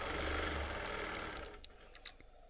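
Sewing machine stitching quilting lines through a plaid quilt, a fast even whirring chatter close by that slows and stops, followed by a few faint clicks.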